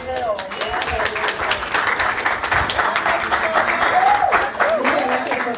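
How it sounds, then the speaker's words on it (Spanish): An audience at a book presentation applauds for Geo, loud continuous clapping with voices and a few exclamations woven through it. "Un aplauso para Geo."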